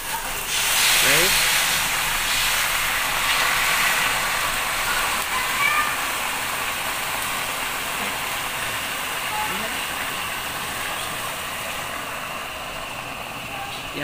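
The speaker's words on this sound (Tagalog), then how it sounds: "Yan guys, kumukulo na guys." A pot of water comes to a rolling boil for instant tinulang isda fish soup, a steady hissing, bubbling rush that stays even and close throughout, with a voice speaking over it.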